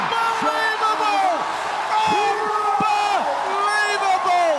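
A darts crowd at the PDC Japan Darts Masters semi-final in Yokohama roars after a sensational finish, with loud, continuous cheering, whoops and shouted voices filling the hall.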